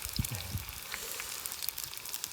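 Dumplings and nuggets fry in hot oil, giving a steady close sizzle and crackle with scattered pops throughout and a brief low thump near the start.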